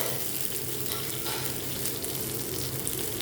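Chana dal, onion, garlic and dried red chillies sautéing in a pan, a dense, steady close sizzle with faint stirring scrapes underneath.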